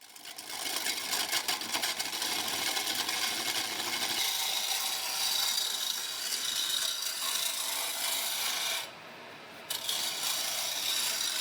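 Wood lathe turning a beefy wooden table leg for a coffee table, giving a continuous raspy scraping hiss that stays loud and steady, with a short break near the end before it resumes.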